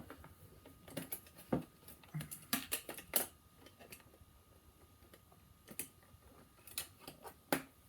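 Cassette tapes clicked into a Teddy Ruxpin talking toy bear, heard as a series of sharp plastic clacks and snaps spread irregularly across the moment, close and fairly quiet, with no talking.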